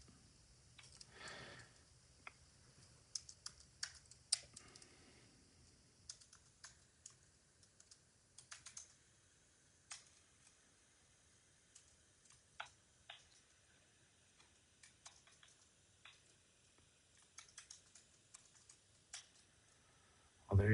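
Computer keyboard typing while entering a search query into a small search program, soft intermittent key clicks in short bursts with pauses, quiet and close, no talking.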